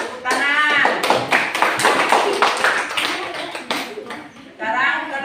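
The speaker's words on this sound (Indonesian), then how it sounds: "Sekarang ini kelompok 1. Kasih tepuk tangan." A classroom of students applauding a group, a burst of many hands clapping fairly close, mixed with voices talking over and after it.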